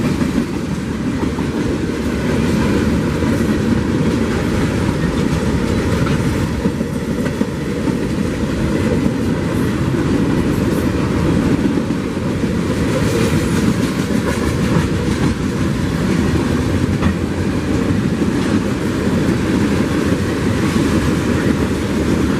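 A long freight train of auto racks and boxcars rolls past in Sweetwater, Tennessee, a steady loud rumble with rhythmic clickety-clack of wheels over rail joints throughout, with no voices.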